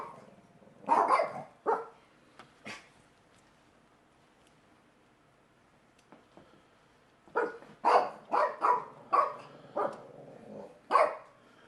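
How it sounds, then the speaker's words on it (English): Dogs bark indoors, at moderate distance: a short burst of barks, a pause, then a lively cluster of yips and barks near the end. "Yes, those are my doggies."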